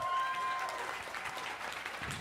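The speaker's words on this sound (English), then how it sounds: "give all those people a big round of applause" Audience at a benefit auction giving a round of applause, a dense continuous patter of many hands, fairly soft and distant, with a brief tone at the start and crowd noise mixed in.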